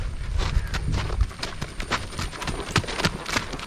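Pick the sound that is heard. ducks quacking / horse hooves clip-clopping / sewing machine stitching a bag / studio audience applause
horse hooves clip-clopping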